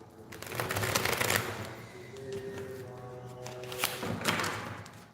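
Tarot cards being shuffled close by, a steady run of riffling and soft slapping with a couple of light thumps, no talking.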